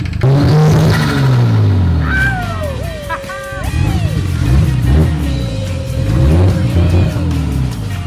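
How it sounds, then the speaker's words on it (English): Nissan Skyline engine running rough and smoky, loud and close, surging through repeated revs with a low rumbling exhaust, while a voice talks briefly over it. "The Skyline is smoking and stalling, but it sounds amazing."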